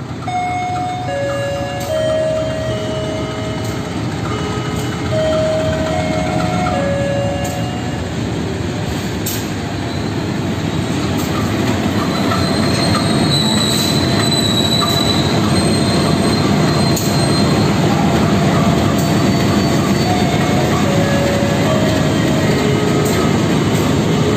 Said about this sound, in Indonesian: ini adalah lokomotif dinas kereta api Tawangalun yang akan mengantarkan saya pulang menuju Jember